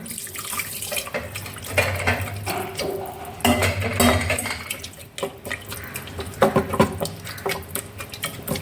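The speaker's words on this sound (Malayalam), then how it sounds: "ഇതിലേക്ക് ആവശ്യമായ വെള്ളം ഒഴിച്ച് കൊടുക്കണേ" Water pours and splashes steadily into a metal pressure cooker for chicken curry, with occasional clinks of cookware.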